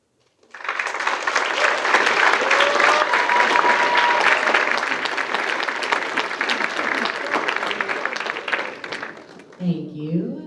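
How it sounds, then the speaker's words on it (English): Audience applause after a poem reading at a Writers Week event: loud, sustained clapping from a crowd that fades near the end, where a voice starts speaking. "Please feel free to not clap after every poem"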